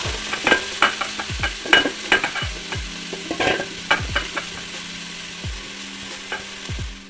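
Drumstick leaves being stir-fried in a pan, with a steady low sizzle under repeated scraping, clacking strokes of a spoon against the pan, close and fairly loud, easing off toward the end.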